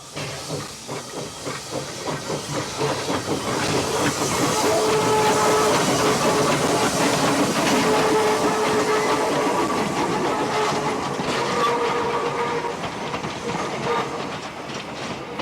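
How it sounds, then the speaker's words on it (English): A vintage 1877 Avonside L-class steam tank engine hauling classic wooden coaches, heard as loud hissing steam and rhythmic rail clatter that swell as the train passes close by, with no talking. "The classic wooden coaches are hauled by this delightful L-class tank engine built by Avonside of Bristol in 1877."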